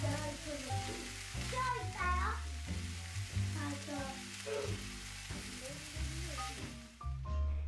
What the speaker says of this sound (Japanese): たっぷりのごま油でごぼうを炒めます。